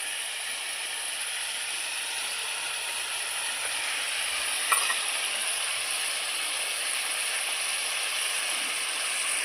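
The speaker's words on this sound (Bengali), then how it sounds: "মশলা দিয়ে দিয়েছি, ভাজতেছি, দেখতে পাচ্ছ।" Meat and potatoes fry with spices in a pan for Bengali chicken kosha, a steady close sizzle and hiss running evenly throughout with one brief louder crackle midway.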